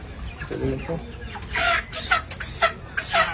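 At a market, a chicken gives a series of sharp clucks and squawks in irregular bursts, close and fairly loud, with people talking faintly around it.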